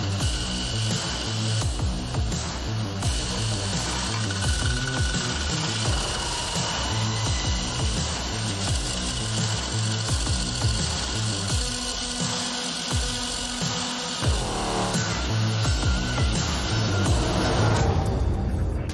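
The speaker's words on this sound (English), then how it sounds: "My job is just to blend that weld, brighten up the edge, sharpen it" An angle grinder works over a steel shovel blade, blending a weld and sharpening the edge, a steady loud whine and grind that changes pitch as the disc bears down, running continuously with no talk.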